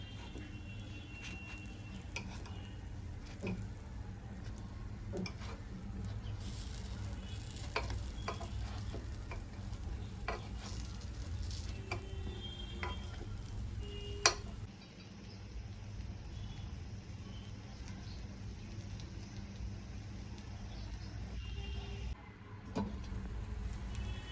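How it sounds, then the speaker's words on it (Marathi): Moong dal appe cooking in an appe pan after being flipped, a soft steady sizzle with a few light clicks and taps, close and otherwise quiet. "आता आपण पलटून घेऊया आणि दुसऱ्या साईडने होऊन देऊया"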